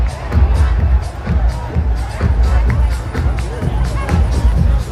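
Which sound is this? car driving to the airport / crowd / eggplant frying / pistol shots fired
crowd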